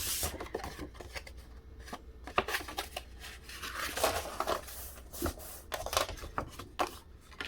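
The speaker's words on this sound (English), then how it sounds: "I'm going to score a 1/2 inch in." A paper file folder is scored with a tool, producing close, quiet scraping and rubbing strokes in irregular bursts with small taps between them.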